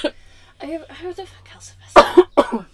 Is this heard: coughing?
yes